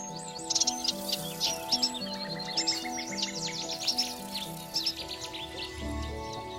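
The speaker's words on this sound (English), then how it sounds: "Cuckoos." Spring birdsong in the reedbeds of Wicken Fen, where a cuckoo is calling, carries as a dense chorus of bright chirps and trills over a steady hum. The calls are moderately near and continuous, with no talking.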